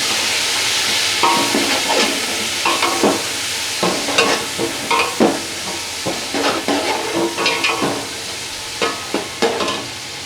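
Tomatoes and green chillies fry in a pan with a constant sizzling hiss, and a spoon stirs them in a series of scraping strokes that recur unevenly. The sound is close and there is no talking.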